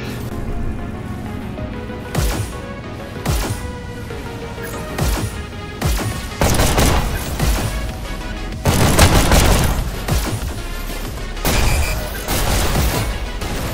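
Several heavy shotgun blasts in the VR game Hopper Dash boom out at uneven intervals over a constant background bed, each loud and sharp, some coming in quick clusters.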